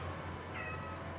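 One brief, rising meow from a pet cat, close and fairly soft over a low constant hum, with no speech.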